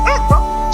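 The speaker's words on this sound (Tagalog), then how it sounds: "Dami mong aso ah" A dog gives a single short, close bark that sweeps downward, with a steady tone and background noise running underneath.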